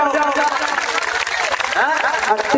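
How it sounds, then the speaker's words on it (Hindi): An audience at an outdoor village gathering with a singer claps loudly and steadily throughout, while voices carry over the applause. "एक बार जोरदार ताली सभी लोग बजा ले"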